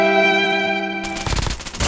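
Rapid gunfire in Call of Duty Mobile cuts in after a steady tonal hum, a quick burst of loud close shots rattling for under a second.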